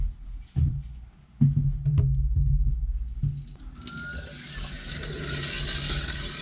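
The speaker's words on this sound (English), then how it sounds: "Water is flowing." Water runs through RV bathroom plumbing during winterization, starting with a few knocks and gurgles before a steady rushing flow builds and continues to the end.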